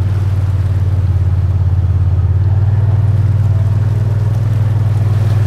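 A 2022 Honda Pioneer side-by-side drives through hurricane floodwater from an overflowing creek, its engine producing a steady, loud, low droning hum with a fast pulsing rumble and no voices.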